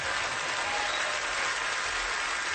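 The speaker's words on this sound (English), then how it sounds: "That's all right to clap for." A Grand Ole Opry audience applauds through a live country music show, a dense, steady wash of clapping that holds evenly from start to end without breaks.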